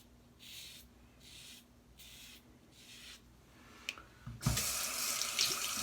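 Running tap water rinses shaved hair out of the lather chamber of a head-shaving razor. Several short splashes under the faucet come first, then a louder, continuous gush of running water close by.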